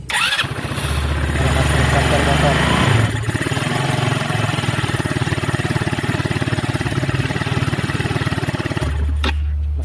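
Rusi RFI 175 motorcycle, its starter motor ground just repaired, cranks and fires up, then settles into a steady, loud, close single-cylinder idle with a brief throttle blip near the end; a voice speaks over it.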